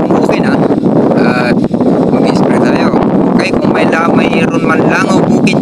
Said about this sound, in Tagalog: Ang lakas ng hangin, naririnig nyo po ba?